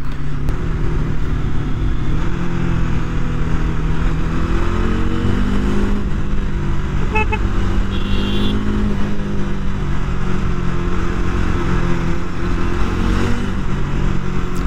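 A motorcycle engine revs up to high RPM and holds there, a steady loud drone with gentle pitch swells, heard close on a highway ride without voices.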